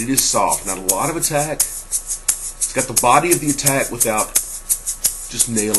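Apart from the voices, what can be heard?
None of the usual background noises is heard.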